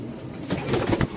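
Racing pigeons give a short, soft cooing burst that rises and pulses a few times, fairly close, over a quiet background.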